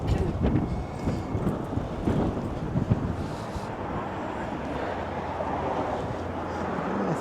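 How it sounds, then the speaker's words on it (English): Strong, cold wind buffeting a microphone on a city retail street, a continuous gusty roar with low rumbling bursts and faint traffic noise beneath. "And some nasty winds."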